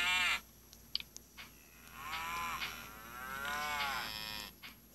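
Cows and bulls lowing in the survival video game SurvivalCraft, several long wavering moos overlapping one after another at moderate loudness, with a few short clicks and a steady low background hum.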